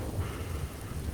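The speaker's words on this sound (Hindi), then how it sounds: "देखते देखते बारिश तेज हो जाती है।" Heavy rain pours steadily at night during a storm, a dense, continuous rumbling wash with low thundery weight and no voices.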